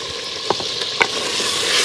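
Chicken fries with ground masala in a pan, a dense hissing sizzle punctuated by two distinct spoon knocks as it is stirred.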